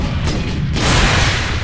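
A missile launcher fires in the video game Space Marine, a loud dense boom with rumbling blasts that carry on through the whole short stretch, no talk.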